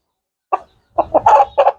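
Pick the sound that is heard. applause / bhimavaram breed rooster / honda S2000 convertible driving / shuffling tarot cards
bhimavaram breed rooster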